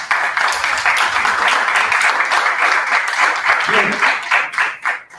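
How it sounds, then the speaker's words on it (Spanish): An audience at an art forum gives a speaker a dense, sustained burst of applause that holds steady, then tapers off near the end, with a voice briefly heard. "Un aplauso,"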